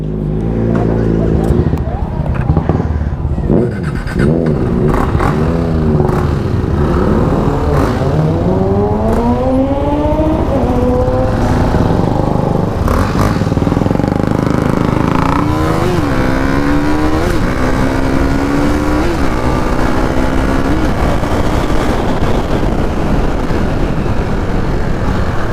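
A new green Kawasaki 6R motorcycle engine running nearby, repeatedly revving and rising in pitch with loud sweeping tones, while people talk excitedly over it.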